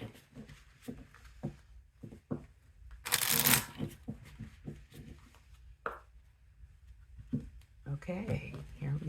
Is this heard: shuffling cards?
yes